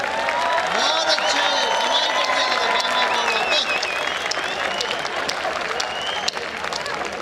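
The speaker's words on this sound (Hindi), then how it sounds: "एक बार पूरा सदन तालियां बजा सकता है" A hall full of people claps continuously and loudly, a dense wash of applause with some voices mixed in.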